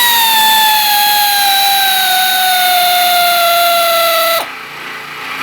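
A power tool removes 10 mm valve cover bolts on an LS650 engine, giving a loud, steady high-pitched whine that slowly drops in pitch before cutting off abruptly near the end.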